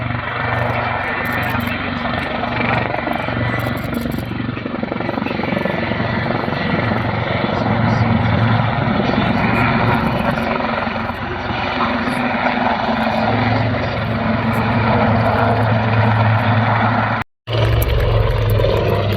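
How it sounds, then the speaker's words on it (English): Royal Navy Wildcat HMA2 helicopter flying at the RAF Cosford airshow, a loud continuous rotor thrum and turbine roar filling the whole stretch, close and steady with a brief cut near the end and faint commentary beneath. "Just imagine this aircraft operating on a very, very small helicopter landing pad."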